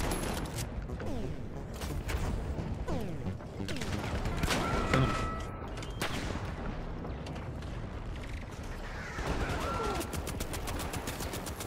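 Turret gunfire in a video game fires in repeated bursts across the scene, loud and dense, mixed with other battle noise and the occasional metallic whine.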